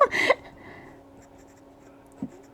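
Parker Jotter pen with a medium nib and Herbin Orange Indien ink scratching across paper in a short burst of strokes up close, followed by quiet and a faint tap.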